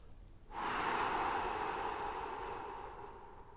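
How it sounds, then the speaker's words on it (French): A single long breath during a fascia stretching exercise, drawn in through the nose and released through the mouth, a soft steady airy rush close up that fades slowly. "On vient effectuer 6 respirations avec inspiration nasale et expiration buccale."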